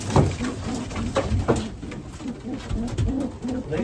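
Racing pigeons coo repeatedly in soft, throaty bursts, with rustling and fluttering of wings nearby in a busy loft.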